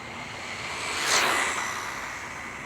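A WLToys RC car runs at full throttle on a 3S battery, a high-pitched electric whine with broadband rush that swells as it passes close by and then fades, with no talk.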